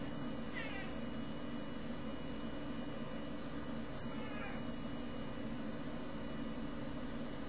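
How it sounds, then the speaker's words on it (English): A pet cat meows faintly a couple of times during a guided workout and meditation session, small harmonic calls sitting over a steady low background hum, with no talk. "This cat is working me."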